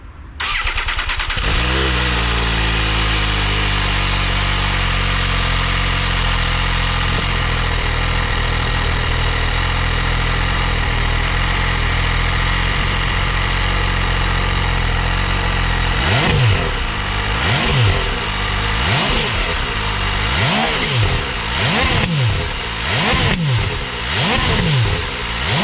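An MV Agusta Dragster RR on its stock exhaust starts up and settles into a loud, steady, soft-toned idle, then gets a run of rhythmic throttle blips in the closing seconds, recorded close with nobody talking.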